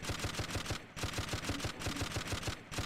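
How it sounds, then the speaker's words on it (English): Sustained automatic weapon fire crackles through a Close Combat 3 battle, rapid regular bursts repeating steadily with brief gaps, loud and dense with no talking. "Okay, so they do have some machine guns over there."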